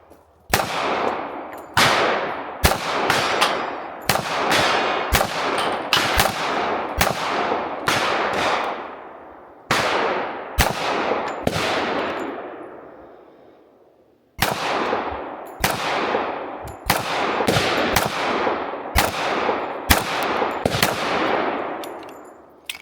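Shots from M1911 pistols, an original Springfield Armory and a newer Springfield, fired in a steady string of loud, sharp reports, each ringing out with a decaying tail. There are two bursts separated by a brief pause, and nobody speaks.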